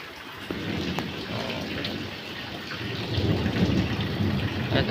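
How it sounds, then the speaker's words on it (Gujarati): Steady rain pours down while thunder rumbles low and builds louder toward the end, with no one speaking. "ગાજવાનું શરૂ છે હજી ગાજે છે વરસાદ"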